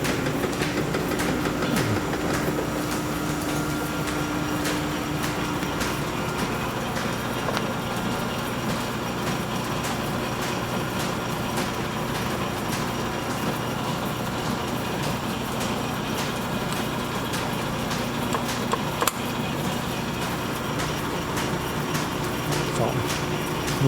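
A line-shaft-driven machine in an old machine shop cuts gears at a slow feed, giving a steady mechanical rumble and whir with rhythmic clicking from belts and shafting, continuous and fairly loud, with occasional voices in the background.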